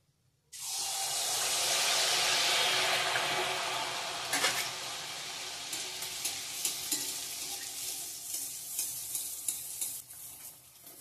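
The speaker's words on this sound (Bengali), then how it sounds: "এখন তেলের পিঠা ভাজবো।" Bengali oil pitha batter dropped into hot oil and frying, a sudden loud sizzle that swells then settles into a bubbling crackle with a few stirring clinks, heard alone without talk.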